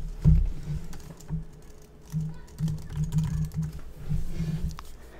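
Typing on a computer keyboard, a steady run of soft, close key clicks in uneven bursts with brief pauses, heard alone without talking.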